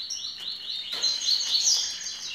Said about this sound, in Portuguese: Aqui um canário mutação.